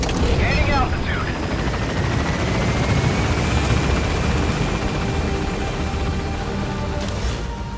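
A helicopter in the video game Metal Gear Solid V gains altitude with a continuous loud rotor thump and engine roar, while game voices talk over it.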